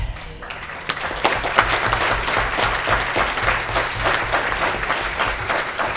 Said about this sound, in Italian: L'applauso è per voi che siete venuti questa sera